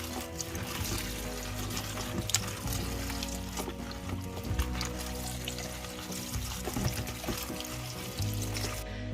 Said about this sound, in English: So first things first, we're going to wash wild garlic flowers.